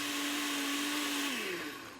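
A countertop blender whirs steadily while blending a fruit smoothie with the lid on, a loud continuous motor drone whose pitch shifts slightly near the end as the load changes.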